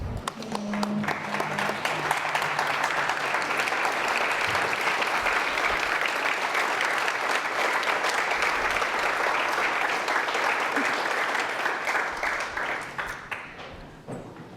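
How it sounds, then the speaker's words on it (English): A standing audience gives award recipients a round of applause at an alumni celebration, the clapping full and sustained before it tapers off near the end. "Please stand to give all the recipients a round of applause."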